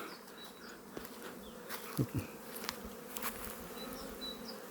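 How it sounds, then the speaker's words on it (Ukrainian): Honeybees fly in a steady, dense buzz around an active hive in early spring while foragers bring in pollen. The hum fills the whole clip with a few brief closer passes. "Бджолки облітуються. Дивіться, який льот."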